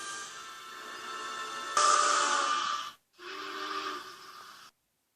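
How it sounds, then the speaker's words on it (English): An eerie steam whistle sounds in two long, hissing blasts, the first swelling louder midway, the second shorter, then silence. "They heard his ghostly whistle."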